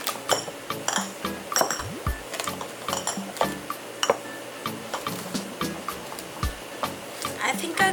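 Glass mason jars clink and knock together while being handled for rinsing, a busy scatter of bright clinks and taps close by, with a voice talking underneath.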